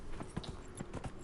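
A horse ridden at pace in the fantasy game Dragon Age Inquisition, its hooves clip-clopping in a quick, even rhythm, moderately close but fairly quiet.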